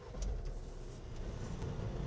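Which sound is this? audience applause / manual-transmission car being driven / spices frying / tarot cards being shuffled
manual-transmission car being driven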